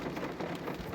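Heavy rain pattering steadily on a glass window during a downpour at Srisailam, a dense, continuous wash of drops with no voices.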